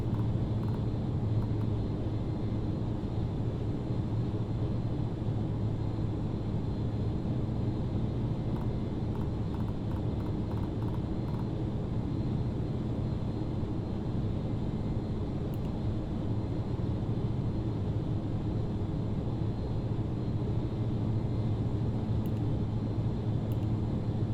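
A Carenado ATR turboprop airliner climbs in a flight simulator, holding a steady, even engine and propeller drone with a low rumble and no talk.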